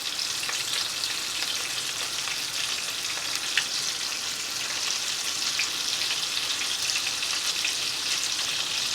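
Chicken pieces searing in a hot pan for a creamy Cajun dish, a steady, close, loud sizzle and crackle of frying that runs unbroken throughout with no voices.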